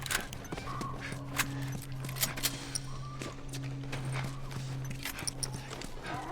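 Horse hooves in The Last of Us on Grounded mode, a series of irregular clopping footfalls over a low steady hum, with faint talk in the background.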